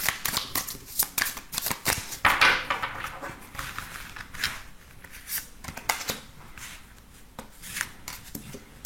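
Tarot cards shuffled by hand before a reading, a run of quick riffling and flicking bursts with soft slaps in between, close and fairly quiet, with no voice.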